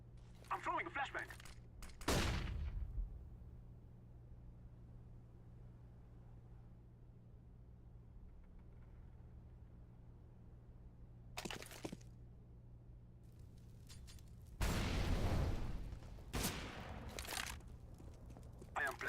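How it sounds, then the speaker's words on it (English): In Counter-Strike: Global Offensive, sharp bursts of gunfire and a flashbang pop ring out in a few loud clusters separated by quiet stretches, with a low steady hum and a voice speaking briefly. "I'm throwing a flashbang."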